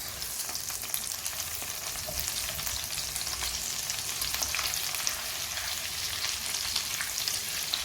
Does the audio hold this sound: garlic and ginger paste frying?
yes